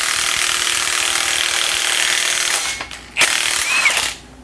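A Milwaukee impact wrench drives a wheel stud home on a vehicle axle flange, a loud sustained rattling hammer that runs steadily, then stutters and stops in short final bursts, close up.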